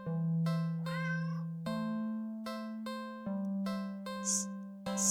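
A black cat in a horror game meows repeatedly, several drawn-out synthetic-sounding cries in a steady rhythm, loud and close with a faint chime near the end, and no talking.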